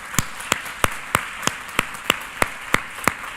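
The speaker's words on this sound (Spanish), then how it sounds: "Vamos a darle un fuerte aplauso al Señor Jesús." A church congregation claps together in a steady, even rhythm, with sharp, distinct hand claps landing about three times per second and nothing else in between.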